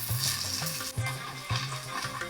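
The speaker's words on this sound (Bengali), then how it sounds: "এবার কুচনো পেঁয়াজ আর লঙ্কাটা দিয়ে বেশ বাদামি করে ভাজবো" Chopped onions and green chillies sizzle steadily in hot oil, browning, with a few spoon-stirring knocks against the pan, close and moderately loud.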